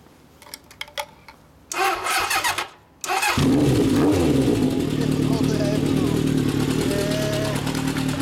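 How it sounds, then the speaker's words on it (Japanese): A 1982 Honda CB750FC motorcycle engine cranks with a few clicks, catches and starts, then settles into a loud, throbbing idle with light revving, close by. "はい、エンジン音聞かせてもらえますか"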